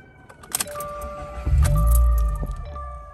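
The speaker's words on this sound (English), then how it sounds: "So we're gonna start it up with a new Cobb exhaust." A Subaru WRX fitted with a new Cobb titanium exhaust starts up after a couple of clicks and a brief starter whine, then settles into a loud, close, deep engine rumble.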